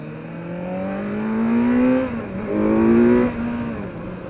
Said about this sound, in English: when you twist the throttle, the bike really does sound like it's taking a very angry deep breath